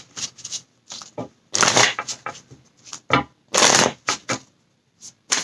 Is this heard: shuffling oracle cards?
yes